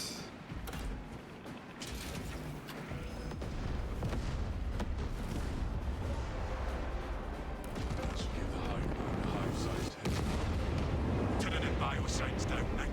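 Explosions in the Space Marine 2 video game after a detonation, a dense, loud barrage of booming blasts and rumbling mechanical noise that runs almost continuously, with a brief dip before resuming, mixed with game voices.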